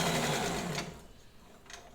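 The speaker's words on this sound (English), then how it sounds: "Now I'm going to turn around and I'm going to come back and make another run of stitches. But I'm going to sew more quickly." A reconditioned White Rotary sewing machine runs quickly through a line of stitches, a close, whirring mechanical hum that fades as it slows to a stop, followed by a faint click.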